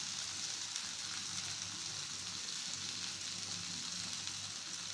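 Brinjal curry sizzling steadily in a frying pan as it is stirred, a continuous bright frying hiss held at an even level throughout, with soft scraping underneath and no talk.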